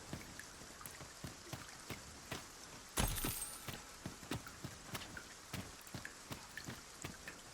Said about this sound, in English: It started raining, Master.